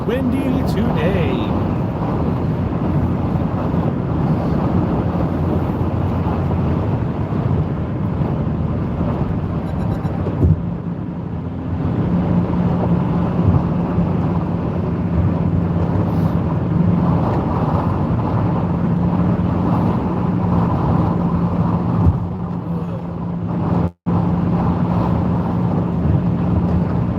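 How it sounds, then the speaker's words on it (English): Steady wind roars and buffets the microphone throughout a car drive on a Southern California freeway, a continuous broadband rush with road rumble underneath and occasional thumps. "It is windy today."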